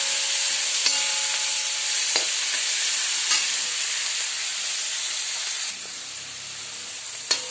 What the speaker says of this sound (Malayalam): സവോള അരിഞ്ഞതും കറിവേപ്പില പച്ചമുളക് എന്നിവയിട്ട് ഒന്നുകൂടെ എണ്ണയിൽ വഴറ്റിയെടുക്കുക